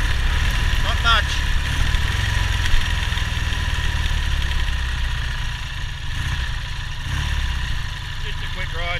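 A stroked big-bore Triumph Trident motorcycle engine runs steadily throughout, a loud continuous low rumble with constant ride and wind noise and no clear revving peaks.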